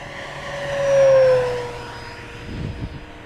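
An FMS 1700mm Corsair V3 RC warbird on a new propeller and 6S–8S power makes a fly-by, its electric motor whine rising to a loud peak and sliding down in pitch as it passes and fades, with brief rustle after.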